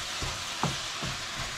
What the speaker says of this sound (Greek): βγάζει και ζουμάκια κάτω και βράζει τα ζουμάκια του